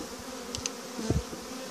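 Honey bees drone during a spring hive inspection, a close, steady buzzing hum with a few brief louder passes and light clicks of hive handling, no voices.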